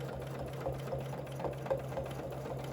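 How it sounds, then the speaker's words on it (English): A domestic sewing machine stitches steadily with a ruler guiding the fabric, giving a continuous close-up motor whir with a low hum and faint rhythmic needle taps, no talking. "So I'm going to take an extra stitch there, and then come back up, take an extra stitch."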